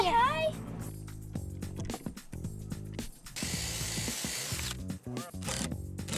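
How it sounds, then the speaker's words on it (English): A drill bores holes into the timber of a backyard playset for mounting hand holds, with short whirring and ratcheting mechanical bursts broken by pauses and a longer, noisier stretch of drilling near the middle. "there are tons of holes to mark and drill so each of the hand holes can be mounted."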